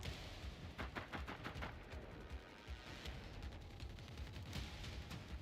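Fireworks go off in Generation Zero as a rapid, crackling run of sharp pops and bangs. The bursts are faint and distant, trailing into a scattered rumble.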